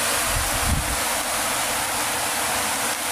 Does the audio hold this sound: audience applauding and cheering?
no